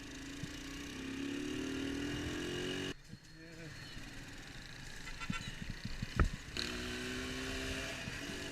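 A motorcycle on a test ride: steady mid-pitched engine drone that cuts out briefly, then resumes with rising revs and a few sharp clicks, fairly close.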